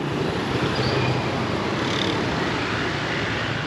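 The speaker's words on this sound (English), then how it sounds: "You might just hear that the traffic noise is different because the spurt is over." Busy road traffic in the capital of Laos, a dense continuous roar of passing vehicles close by, steady and loud with no clear breaks or voices.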